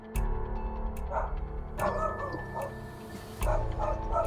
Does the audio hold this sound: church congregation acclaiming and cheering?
no